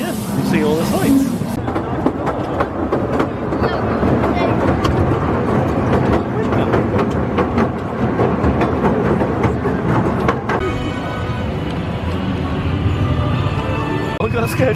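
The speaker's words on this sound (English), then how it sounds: "We're on the train." Amusement park train ride at Efteling in the Netherlands, a steady rumbling roll with faint clicking under people talking throughout, loud and close from onboard.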